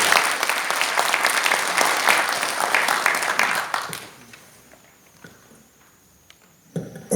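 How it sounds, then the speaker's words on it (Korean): A crowd in a large conference room at the Korean National Assembly applauds loudly and steadily for about four seconds, then the clapping dies away to scattered claps and quiet room noise. "뜨거운 박수 부탁드리겠습니다."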